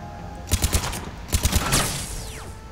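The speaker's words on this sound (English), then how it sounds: "Those cannons have to be stopped." Rapid bursts of heavy cannon fire in two volleys, booming shots in a video game battle, followed by a descending whistling streak as something flies past.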